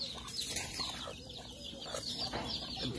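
Chickens and a rooster among young chicks cluck in a busy outdoor coop, with sharp high chirps and clucks overlapping close by and no talk.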